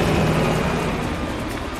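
A helicopter escapes during the Cuba mission of Call of Duty Black Ops Cold War, a loud steady rotor and engine roar that slowly fades over a couple of seconds.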